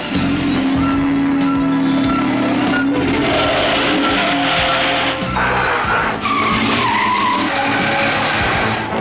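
Tires squeal as a car skids through a handbrake turn in a 1982 film stunt. The loud, sustained screech runs under engine noise and background sound for the whole stretch.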